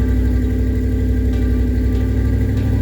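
A 1991 Ford F-150 idles with welded galvanized steel exhaust turn-downs, giving a steady, loud low-pitched rumble that holds evenly without revving.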